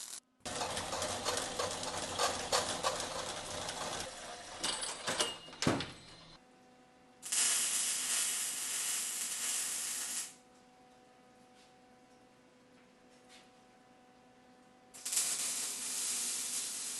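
A cross member is welded onto a scooter frame, bursts of harsh crackling hiss running several seconds each, separated by quiet pauses and a few knocks.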